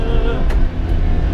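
A 1994 Honda Acty van, the first fuel-injected version, accelerates in third gear, its engine a loud, steady, close drone heard from inside the cab over a short stretch.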